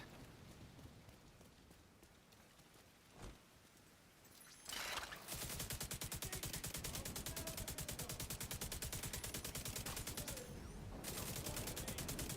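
Sustained light machine gun fire in a video game, a rapid, even stream of shots running for several seconds after a quieter stretch, loud and close with no talk over it.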